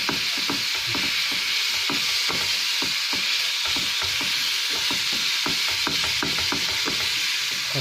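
Minced meat and tomatoes fry loudly in a pan for an Egyptian moussaka, a dense, constant close-up sizzle with rapid popping crackles throughout, no voices.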